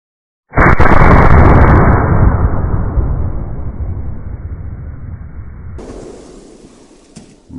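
A single loud, close gunshot from an 1887 Winchester lever-action in 70-150 WCF firing a 900-grain bullet over 200 grains of black powder, a sharp blast followed by a long rumbling decay that fades over several seconds.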